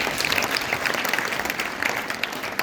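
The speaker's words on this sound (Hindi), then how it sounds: "तो इसके लिए एक बार जोरदार तालियां।" Loud, dense applause from a school audience at a mental health day event, steady and unbroken throughout with no voices on top.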